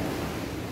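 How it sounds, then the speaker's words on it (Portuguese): High ocean waves at Boa Viagem beach in Recife produce a steady, dense roar of surf with wind buffeting the microphone, loud and continuous and without a break. "Mais onda bem alta."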